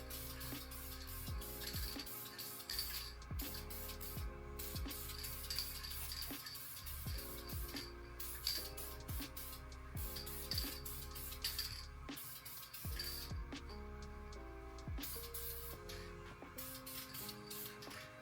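Spray can applies a primer coat during a Ford Barra engine swap into a Z32, giving a steady close hiss that runs almost continuously with brief pauses between passes.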